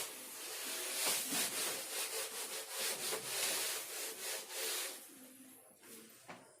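Writing is rubbed off a board during a physics lesson in a run of quick, rhythmic scrubbing strokes, fairly soft and close, tapering off near the end.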